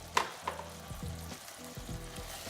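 Spiced masala of salt, degi mirch powder, cumin powder and kasuri methi simmering in a tomato-style puree for dal makhani, a soft steady sizzle broken by a few sharp stirring knocks near the start, close and alone without voices.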